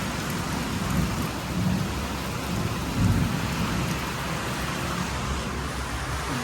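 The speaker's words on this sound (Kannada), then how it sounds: "ಇದು ನೋಡ್ರಿ ಮಳೆನೂ ಚಲಾಗಿತ್ತು" Steady rain pouring outdoors with low rumbling thunder swelling around the middle, a continuous dense hiss at moderate loudness with no talk.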